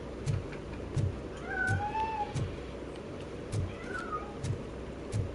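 A cat meows in a video game: two drawn-out, wavering meows sound over a steady rhythm of soft, dull thumps, with no voices.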